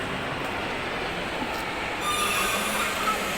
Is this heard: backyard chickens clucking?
no